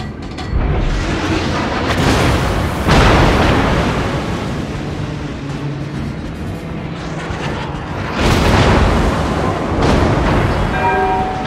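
Battleship guns fire in World of Warships aboard the USS Alabama, deep booming salvos with long rumbling tails, the loudest blasts near the start and again toward the end.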